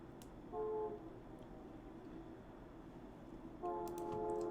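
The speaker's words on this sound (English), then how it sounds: "Sorry for the train outside." A train passing outside, heard from indoors as a faint, steady low rumble with two brief horn-like tonal blasts rising above it, one early and one near the end.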